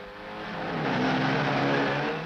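Ford Escort rally cars, GTs and twin cams, racing flat out on a figure-8 sprint course, engines roaring loud and close in a sustained, rising blare with high-revving strain and no talk over them.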